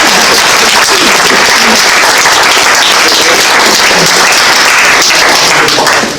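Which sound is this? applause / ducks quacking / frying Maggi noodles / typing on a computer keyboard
applause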